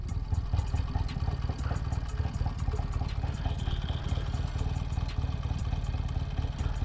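The engine of a 1971 BSA 650 Lightning British twin motorcycle runs steadily with a close, rhythmic pulsing throb and mechanical clatter, sustained without break.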